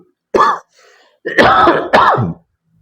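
A person clears their throat and coughs: a short hack, a pause, then two heavier coughs close to the mic.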